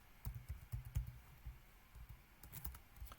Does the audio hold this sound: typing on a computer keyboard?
yes